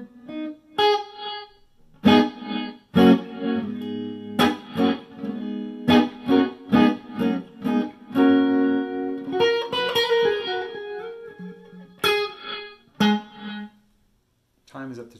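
Electric guitar played through an Electro Harmonix Holy Grail Max reverb pedal, with plucked chords and single notes ringing out into reverb tails and brief pauses between phrases.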